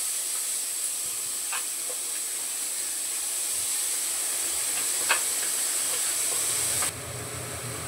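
Finely chopped onion sizzles in a little oil in a kadai over high heat, a close, even hiss running steadily with a few faint ticks and pops.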